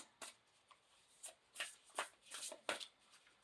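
Self-care wisdom cards being shuffled by hand, a soft, close series of quick riffling bursts with brief pauses between them, quiet and alone.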